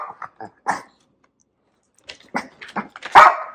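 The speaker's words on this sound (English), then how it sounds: "She won't stop barking until she gets a treat." A dog barks in short bursts, a few quick yaps, a pause of silence, then a louder run of barks and a whine-like growl at the end, close by, with no one talking.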